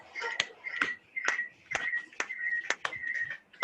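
A group claps in a rhythmic pattern during a Rotary gathering, sharp single claps spaced about half a second apart, fairly faint, with a sustained tone and light voices underneath.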